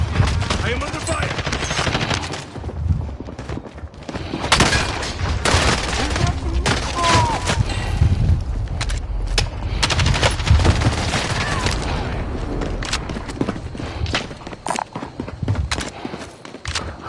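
Rapid, continuous gunfire rattles through a Warzone quads match, with automatic bursts and shots layered densely at close range, loud throughout, with a little speech buried underneath.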